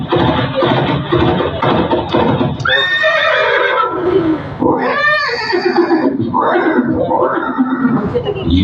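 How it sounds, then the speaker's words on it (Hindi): In a film scene about Maharana Pratap's horse Chetak, a horse neighs loudly and repeatedly, with clip-clop hooves, over a dense soundtrack and voices. "ये दृश्य महाराणा प्रताप और सुविख्यात स्वामी भक्त घोड़े चेतक के अंतिम मिलन का है।"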